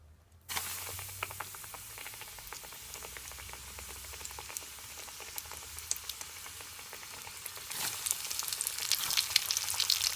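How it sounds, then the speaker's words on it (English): Pork for sweet and sour pork frying in plenty of hot vegetable oil: a steady, close crackling sizzle that runs the whole time and grows louder and busier near the end, with no voices. "So now I'm gonna fry it now."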